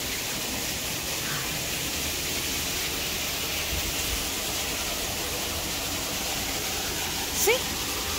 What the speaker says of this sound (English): There's your waterfall.